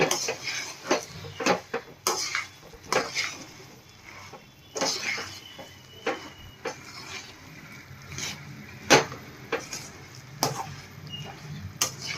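A spoon stirs and scrapes a puffed rice laddu mixture in a pan, making repeated close clinks and rustling scrapes at an uneven rhythm with no talking.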